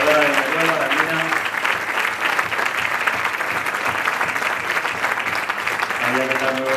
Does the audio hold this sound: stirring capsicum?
no